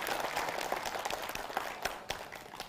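A crowd applauding steadily at moderate distance at a televised Islamic preaching event, dense clapping with a few sharper individual claps standing out as it begins to thin.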